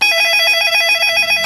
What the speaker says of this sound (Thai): คุณรับโทรศัพท์หน่อยเร็ว